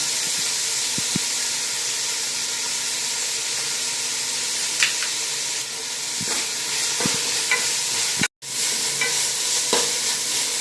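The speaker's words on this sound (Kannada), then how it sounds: "ಇವಾಗ ಚೆನ್ನಾಗಿ ಇವನ್ನೆಲ್ಲ ಫ್ರೈ ಮಾಡ್ಕೊಳ್ಳೋಣ." Onions with curry leaves and a little salt fry in a pan, producing a loud, continuous sizzling hiss with occasional scraping stirs and one abrupt brief break in the sound.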